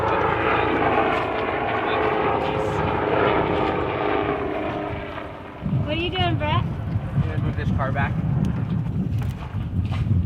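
A helicopter passes overhead with a continuous loud engine and rotor drone that dips briefly midway, then returns strong, with a short high warbling tone over it.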